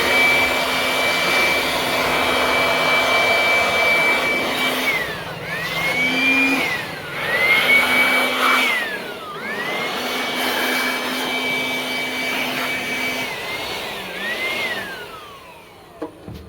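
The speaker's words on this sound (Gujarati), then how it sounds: "હવે આ બધી જે ધૂળ એને વેક્યુમ માની સાફ કરી નાખી" A vacuum cleaner sucks dust from a car interior with the front seats removed, its motor whining steadily and dipping in pitch several times as the nozzle presses against surfaces, loud and close, with no talking.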